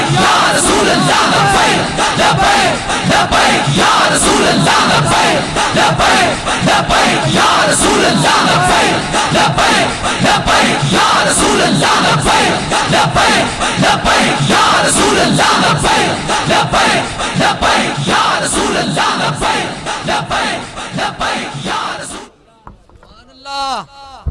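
A large gathering at a religious sermon chants slogans in unison, a dense, loud, rhythmic roar of many voices sustained for over twenty seconds before breaking off into quieter sounds.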